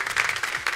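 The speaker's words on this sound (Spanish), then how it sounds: "fuerte aplauso para Lady Mina aquí en Te Tomaste la Playa" Brief burst of studio audience applause for Lady Mina on a comedy show, dense close clapping lasting under a second.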